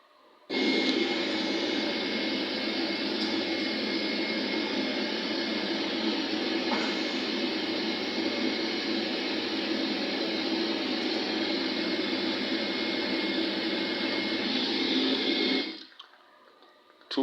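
An Etihad Airways jet's engines roar steadily on the runway during takeoff, a loud sustained broadband rush lasting about fifteen seconds before cutting off abruptly.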